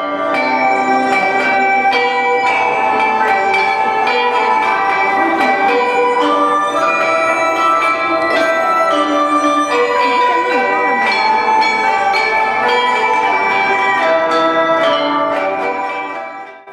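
Bells ring out in a musical performance at the Xi'an Bell Tower, a continuous bright, resonant melody of struck tones with overlapping ringing, loud and close throughout.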